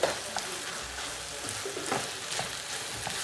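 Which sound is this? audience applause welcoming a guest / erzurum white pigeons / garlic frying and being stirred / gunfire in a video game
garlic frying and being stirred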